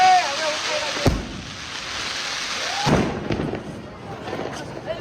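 Diwali firecrackers bursting nearby, a few sharp bangs and whistling rockets over a steady crackling hiss with people talking in the background.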